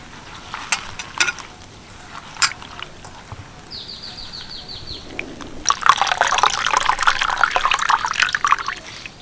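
Drumstick leaves being washed in water in a kitchen, with light drips and taps, then a louder stretch of splashing and swishing, close and alone.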